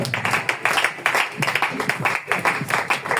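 A church congregation applauding at a Sunday service, with steady close rhythmic clapping in a regular beat and no pauses.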